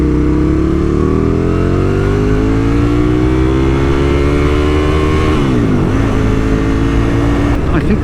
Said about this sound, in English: over the engine and the rain